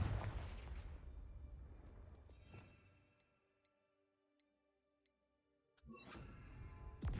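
A Confringo fire spell in Hogwarts Legacy bursts with a loud booming blast that decays over about two seconds, followed by near silence with faint ticking, then a second sharp burst and rumble.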